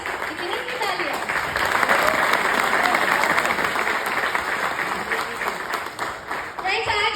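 Seminar audience claps steadily through a youth empowerment event, a dense, sustained wash of applause under a faint murmur of voices.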